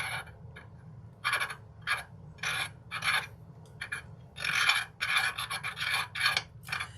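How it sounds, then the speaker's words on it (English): Gritty scraping and grinding strokes of a mortar and pestle grinding gouache paint, in an irregular rhythm, close up, rough rasping bursts separated by short quiet gaps. "I'm going to take my mortar and pestle, and I'm going to kind of give it a little grind"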